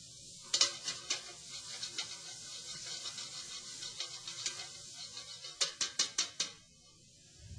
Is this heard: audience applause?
no